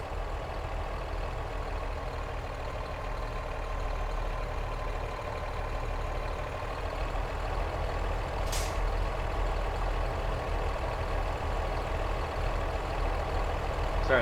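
Heavy truck in American Truck Simulator idling steadily at a construction red light, a constant low engine rumble with a brief hiss of air brakes partway through.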